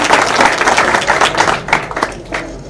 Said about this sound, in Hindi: आकांक्षा गीत के लिए भी ताली बजा दीजिए